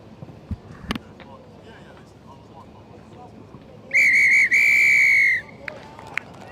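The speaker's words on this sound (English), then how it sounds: "As soon as we hear the full-time whistle, stand by for some live telly" A rugby referee at a schools sevens match gives a loud two-part full-time whistle blast, one short and one long, over faint crowd noise and a speaking voice.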